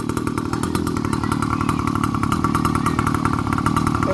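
Motorcycle engine running steadily in La Union, loud and close, with a constant even drone and rapid firing pulses throughout and no voices.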